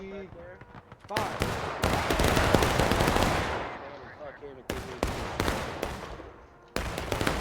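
Rapid volleys of rifle and machine-gun fire in a multiplayer war video game battle, loud dense bursts cutting in and out, with a voice commenting faintly in between.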